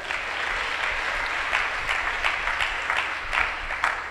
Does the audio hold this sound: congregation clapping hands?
yes